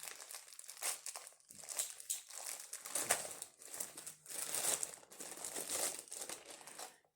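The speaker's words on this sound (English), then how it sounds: "I am going to rip open this as quick as I can." Plastic packaging on an advent box item is ripped open and crumpled up close, with bursts of crinkling and tearing in quick, uneven waves.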